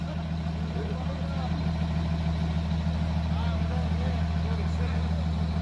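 A truck engine on a dyno holds a steady, droning idle, low and constant, with faint voices from the people gathered close around it.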